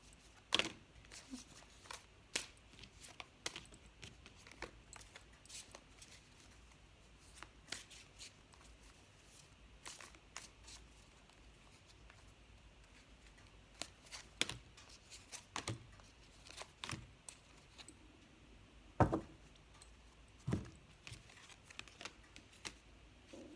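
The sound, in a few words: shuffling and drawing tarot cards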